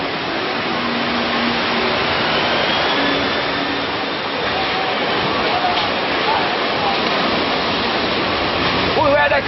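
A tsunami surge of water six to eight feet high rushes down a road, a loud, constant roaring wash of water that fills the whole scene without letup, with faint voices under it.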